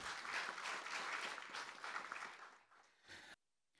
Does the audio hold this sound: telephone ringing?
no